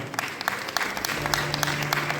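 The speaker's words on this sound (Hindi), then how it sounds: "जोरदार तालियां एक बार" Audience at a school awards function applauding an honoree, steady mid-distance clapping from many hands with a few sharper individual claps standing out, brief and without cheering.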